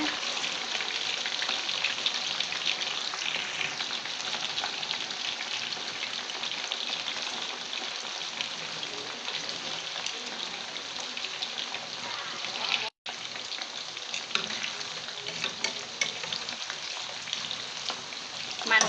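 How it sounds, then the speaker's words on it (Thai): Marinated beef sizzles continuously in oil over medium-low heat as it is stirred, a steady, fairly even frying hiss lasting the whole stretch, with one brief dropout near the end and no voices. "ทอดด้วยไฟกลางท่อนไปทางอ่อนค่ะ"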